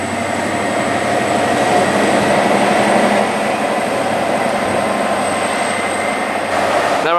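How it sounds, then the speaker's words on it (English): A Great Western Railway Class 43 train pulls into Reading station bound for London Paddington, a steady loud rumble of engine and wheels sustained throughout with a high whine above, no voices. "Now arriving in is a Great Western Railway service, Class 43 bound for London Paddington with 43 142."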